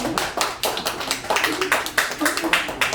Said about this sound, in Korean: 다시 한번 박수 좀 해주세요